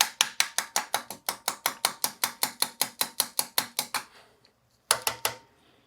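A Shimano SLX M7120 brake caliper and its lines are tapped rapidly during a syringe bleed, about twenty sharp, evenly spaced close clicks, a pause, then a few more taps.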